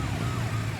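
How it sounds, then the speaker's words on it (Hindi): Ambulance siren in road traffic, a steady wailing tone heard continuously and fairly loud for a brief moment, with no talk over it. "एम्बुलेंस हॉर्न दे रही है, सुनाई नहीं दे रहा है क्या?"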